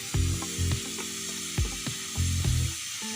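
Oil sizzles steadily in a pan while chicken capsicum gravy cooks, with repeated scraping stir strokes and clattering thumps from a utensil over a continuous frying hiss.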